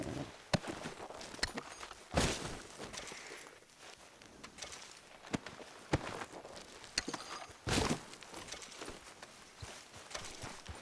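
Hooves clop irregularly as a horse walks in Red Dead Redemption 2, close soft thuds with occasional louder steps over faint ambient background, no speech.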